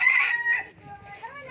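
A free-range native chicken crows in a short, near, harmonic call that trails into softer clucking.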